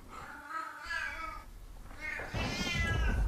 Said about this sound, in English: That's a cat, and that sounds like it's in my house.